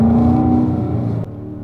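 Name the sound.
Corvette engine running on track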